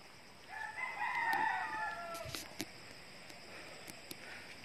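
A rooster crows once at a distance, a faint wavering call heard outdoors with a few light clicks and quiet ambient noise around it.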